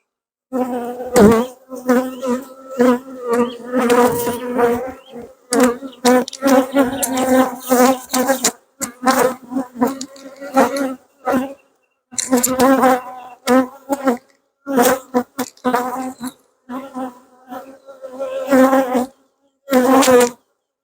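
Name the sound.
honey bees buzzing in an open hive box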